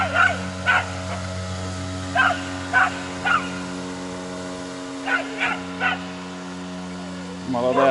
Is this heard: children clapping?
no